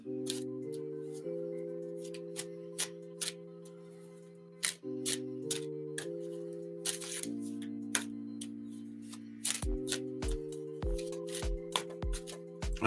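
Soft shuffling and riffling of oracle cards with light taps and clicks, quiet and close, beneath a gentle sustained musical drone.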